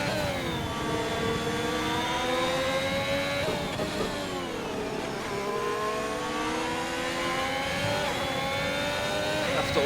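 Simulated race car engines from a racing game at the Hungary circuit scream continuously at high revs, with several cars' pitches rising and falling together through shifts, loud and steady throughout.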